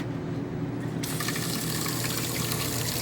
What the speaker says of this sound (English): And the water pump, you'll hear it.